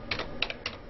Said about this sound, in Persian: حالا تایپ میکنم